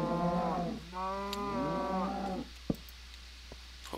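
Cattle in a farming video game give two long, loud moos one after another, the second sliding downward in pitch, followed by a sharp click and a few faint ticks.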